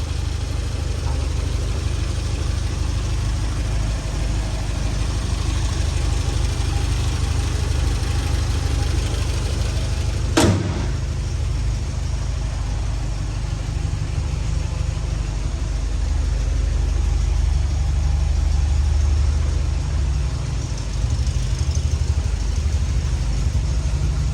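A Porsche 924 2.0 automatic's engine idles steadily for the whole stretch, a low continuous rumble close by, broken once by a brief sharp click partway through, on a cold day.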